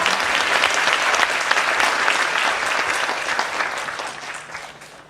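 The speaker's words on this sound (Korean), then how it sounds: "모두 환영의 박수 부탁드립니다." Audience applauding in welcome at the launch rally of a national coalition opposing same-sex marriage constitutional amendments, with dense, steady clapping throughout that fades slightly toward the end.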